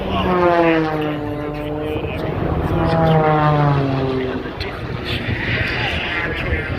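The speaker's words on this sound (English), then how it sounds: "entering the course now, Peter Kopstein from the Czech Republic, from Czechia, race number 18." An aerobatic race plane flies low over the Douro river, its propeller engine droning loudly with falling and rising pitch sweeps as it passes, while an announcer talks over it.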